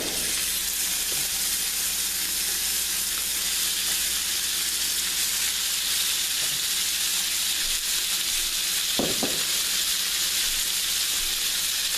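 Steak frying in a tablespoon of vegetable oil in a pan over medium-high heat, a steady loud sizzle and hiss throughout with a brief clatter near the end.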